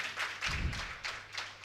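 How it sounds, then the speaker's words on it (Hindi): Thin, sparse clapping from an audience at a Hindi heroic-verse poetry recital, with a few scattered claps and taps forming brief, weak bursts over under two seconds. "आपकी तालियां कमजोर हैं"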